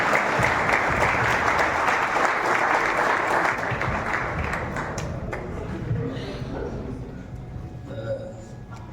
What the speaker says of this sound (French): accueillir chaleureusement, avec des applaudissements bien nourris, le président de la société Palais Saada